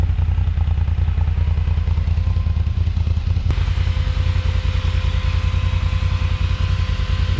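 The engine of a TGB Blade 1000LTX Premium quad idles steadily nearby in a fast, even, chugging rhythm throughout, with one sharp click partway through and no voices.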